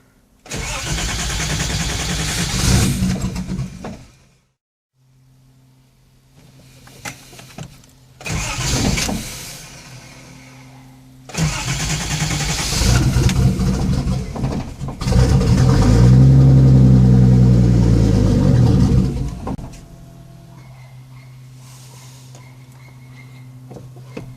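A 1970 Datsun 240Z with a turbocharged L28ET engine cranks and catches in several bursts, stalling between attempts, then settles into a loud, close, lumpy idle with a steady low hum underneath.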